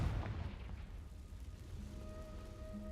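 A Confringo blast spell in a Harry Potter wizarding video game, a deep rumbling explosion that starts loud and decays into a sustained low roar with faint tonal game effects.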